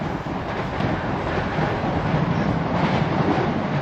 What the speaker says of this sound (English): Sorry, another train.